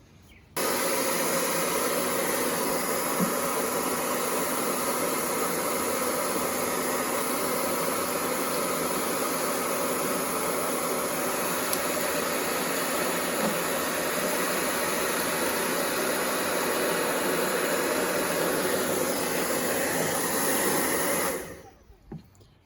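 Heat gun blowing hot air on a rear badge of a Hyundai Elantra N, a loud, constant whooshing roar that runs nearly unbroken for about twenty seconds before cutting off.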